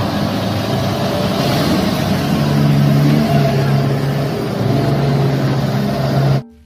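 A toy mining dump truck makes a continuous engine drone that swells slightly in the middle as if revving, then stops suddenly at the end.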